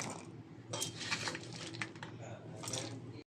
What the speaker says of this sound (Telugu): ఇప్పుడు దీన్ని మనం మిక్సీలోకి తీసేసుకుందాం